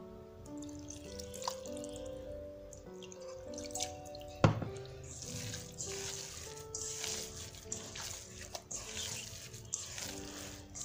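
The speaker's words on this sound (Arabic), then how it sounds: "واخا هكا غادي نزيدها شويه الماء" Water trickling and dripping from a tap into semolina dough being mixed by hand, soft intermittent drips and pouring over a faint hum, with a sharp knock partway through.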